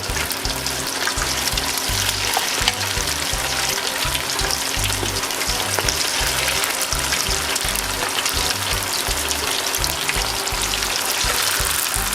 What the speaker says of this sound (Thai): เราจะทอดในน้ำมันมะพร้าวนะคะ